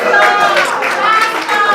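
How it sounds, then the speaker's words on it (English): A crowd at a school class reunion celebration breaks into loud, dense clapping, with scattered voices under the applause throughout the short burst. "Please clap for the women in the house."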